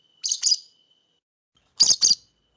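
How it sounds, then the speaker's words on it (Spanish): A lovebird gives two pairs of short, bright chirps, the pairs separated by a pause of about a second, close and clear against silence. "Un agaporni."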